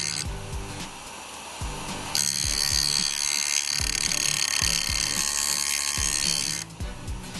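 A carving chisel is ground on a JOOLTOOL sharpener, giving a steady high-pitched abrasive whir that swells louder midway, with rhythmic low knocks underneath and no talking.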